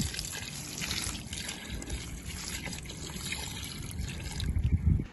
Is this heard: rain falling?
no